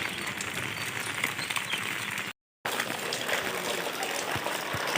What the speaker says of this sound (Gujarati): આ જો આખો આ common plot common plot overflow થઈ ગયો છે